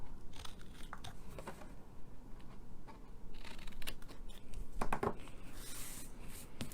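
Scissors snip quietly through paper or card for a Mother's Day gift box, a series of faint irregular cuts and rustles, close but soft, with no talking.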